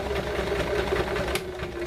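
Short burst of a sewing machine back stitching on a tote bag, a fast steady motor whir with rapid needle clatter that runs close and continuous before a brief clicking shift near the end.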